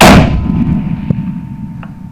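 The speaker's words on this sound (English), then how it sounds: "So I'm going to take a shot here as she's moving." A single rifle shot fired at a predator near a carcass during a hunt, one sharp loud blast at the start that decays into a rolling outdoor echo, followed by a couple of faint thumps.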